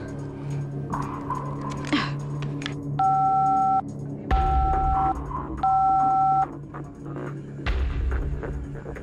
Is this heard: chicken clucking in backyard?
no